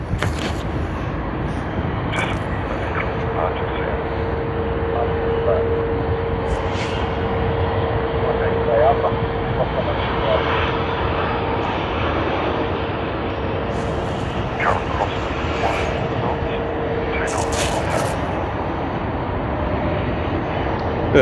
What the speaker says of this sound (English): Qantas having that super long taxi to the gate.